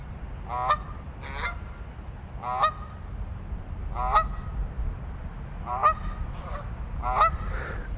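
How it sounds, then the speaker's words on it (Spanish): Wild geese in a flock honk repeatedly, about eight distinct calls spaced irregularly over a low background rumble, fairly close and clear. "nos topamos con una parvada de gansos salvajes que están listos para hacer su interpretación para nosotros"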